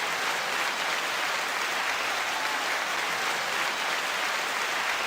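An audience applauds in a steady, dense clatter of many hands, evenly sustained for several seconds at moderate volume with no voices over it.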